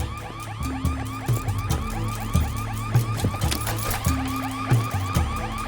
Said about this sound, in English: Connor, that's the alarm at the museum.